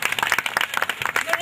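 Brisk clapping from a classroom audience in an English class, a quick burst of individual hand claps close by over roughly a second and a half.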